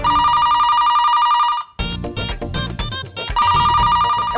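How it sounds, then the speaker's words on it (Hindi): A telephone rings loudly with a steady electronic tone, breaks off into a burst of music, then rings again; no speech over it. "फोन क्यों नहीं उठाता कोई?"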